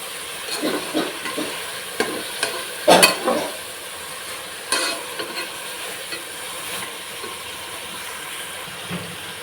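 Garam masala being stirred into a vegetable biryani mixture in a pan, with intermittent scraping strokes of a spoon over a low continuous sizzle, a few sharper knocks early on, no voices.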